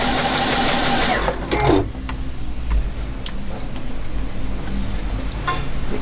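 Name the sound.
Juki DX7 sewing machine stitching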